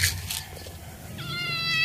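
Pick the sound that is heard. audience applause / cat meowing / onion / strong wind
cat meowing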